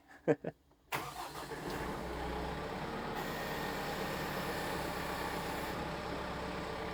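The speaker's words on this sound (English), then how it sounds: "Now we're gonna crank the tractor" An engine cranks briefly, catches, and settles into a steady, loud diesel rumble that runs on without pause.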